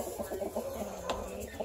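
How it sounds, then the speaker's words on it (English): Caged roosters on an Indiana homestead cluck and mutter in a steady, moderately close run of short calls, with no crowing and no one speaking. "And then we have some roosters here in the cages."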